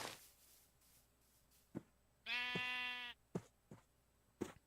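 A Minecraft sheep gives a single clear, sustained bleat lasting under a second, close and distinct, surrounded by a few soft clicks and quiet pauses.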